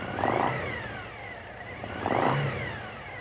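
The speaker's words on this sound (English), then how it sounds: "Rev the engine slightly a couple of times and allow it to return to idle" A Suzuki TL1000S V-twin motorcycle engine is revved twice in quick blips, each rise falling back to a steady idle, heard close up with no voices.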